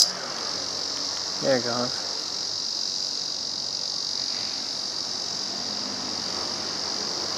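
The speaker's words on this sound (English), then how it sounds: "That's a bug making all that noise." Cicada buzzing steadily in a backyard, a continuous high insect drone filling the whole clip at moderate distance, with a brief spoken remark near the start.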